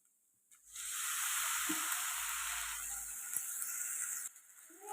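Tomato puree hitting a pan of fried ginger garlic paste, a sudden hissing sizzle that swells out of near silence, holds for about three seconds with a stir knock, then cuts off abruptly.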